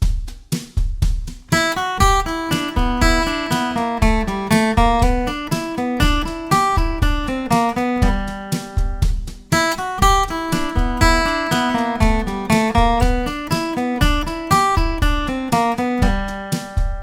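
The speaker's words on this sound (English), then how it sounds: "I'm going to play it along with the train beat drum track," Flat-picked acoustic guitar lead lines run over a steady train-beat drum track, with quick picked notes in a driving, even rhythm, close and clear throughout with no talking.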